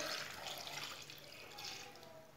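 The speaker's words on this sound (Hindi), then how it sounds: "एक गिलास पानी डाल लेंगे" A glass of water is poured into a pot of cut potatoes while cooking tikki, a steady, fairly loud rushing pour lasting a couple of seconds with no talk.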